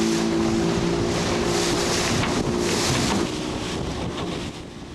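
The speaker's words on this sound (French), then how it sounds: "Il est propulsé par un moteur Baudouin de 12 cylindres en V de 430 chevaux." Scallop trawler powered by a Baudouin 12-cylinder V diesel of 430 hp, cruising at around 10 knots at sea; a steady loud engine drone mixed with wind and water rush, continuous throughout.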